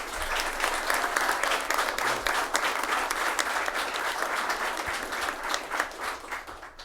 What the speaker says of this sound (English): a great round of applause about what Jasper's doing